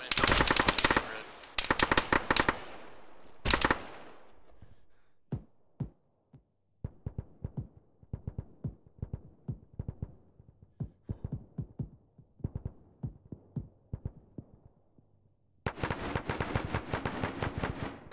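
Gunfire in a military tactical video game: loud bursts of automatic fire open and close the stretch, with sparse single shots and short volleys cracking in between across a quiet background.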